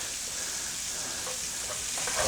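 Green beans sizzling in a cast iron skillet, a constant bright frying hiss with faint crackles, steady and close throughout.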